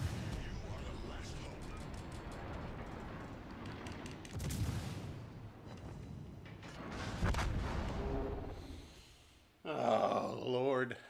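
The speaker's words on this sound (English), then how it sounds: "Is that Leon shooting HE?" Booming artillery fires high-explosive shells during a large show rehearsal, heavy blasts sounding at a distance over rumbling background, while people talk and exclaim nearby.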